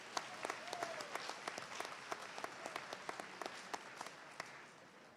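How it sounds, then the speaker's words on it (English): A school audience at a class day awards ceremony gives scattered applause, faint and thin, with individual sharp claps standing out at an irregular rhythm. "I'd like to give a round of applause for Ms. Simler for organizing this event."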